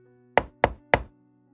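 Three firm, evenly spaced knocks land on a door on a rainy evening, close and crisp, with near silence around them.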